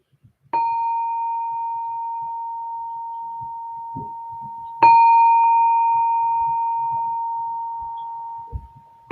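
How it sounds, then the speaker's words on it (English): A bell rings twice during a guided meditation, each strike a clear sustained tone that slowly fades, with quiet pauses and faint rustling around it. "I'm going to ring the bell."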